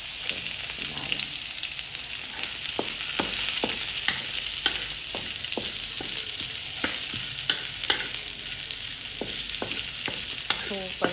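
Garlic and lemongrass fry in a hot pan for chicken tinola, a constant bright sizzle with repeated sharp scrapes and taps of a spatula stirring.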